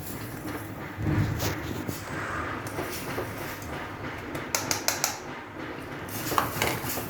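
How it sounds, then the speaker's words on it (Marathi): Clinking and scraping of a utensil in a pot as gram flour is stirred into boiling water, with a few sharp taps against the metal rim. "तर बेसन थोडं थोडं करून घालायचं आणि त्याला घोळायचं"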